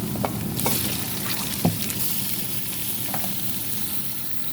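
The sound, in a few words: chicken meat frying in a karahi with spices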